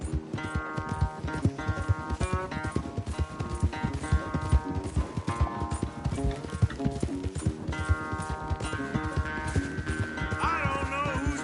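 A horse gallops flat out in a race in Red Dead Redemption 2, its rapid hoofbeats clip-clopping in a steady, driving rhythm for the whole stretch, close and prominent.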